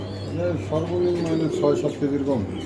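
Pigeons cooing at a Bangladeshi market where birds are sold by the piece, several soft rolling coos close by over a low steady background hum.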